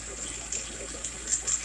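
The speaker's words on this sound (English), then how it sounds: "Got that water in there, because when the cold water hits it, it just breaks it real fast" Cold water pours into a container used to crack hot glass fast, a steady close splash and trickle with a few brief louder gushes over a short span.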